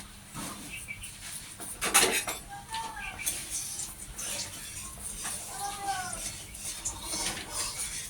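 A wok and a flat pan are handled in a home kitchen, giving a few light metallic clinks and knocks scattered under a quiet background with faint voices.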